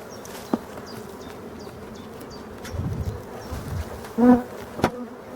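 Bees buzzing in the background as a hive is opened, a low steady drone with a few louder passes close by, plus occasional small clicks.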